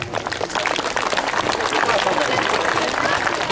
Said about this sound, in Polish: gorące brawa dla pana nadleśniczego